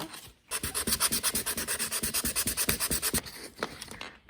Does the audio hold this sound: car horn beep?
no